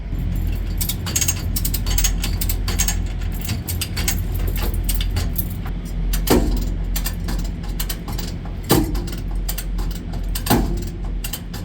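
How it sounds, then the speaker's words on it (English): A come-along ratchets repeatedly to straighten a sheared mudflap bar on a semi trailer, with close, loud metallic clicks and pawl snaps in uneven bursts over a low background rumble. "I'm going to put some come-alongs on to straighten the mud flat bar a little bit more"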